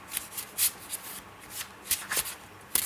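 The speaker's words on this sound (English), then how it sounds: "Let's get one more card from this deck of mine." Tarot cards riffled and shuffled by hand, then drawn from the deck: a string of short, crisp papery bursts and flicks at an uneven rhythm, close and fairly soft, with no talking.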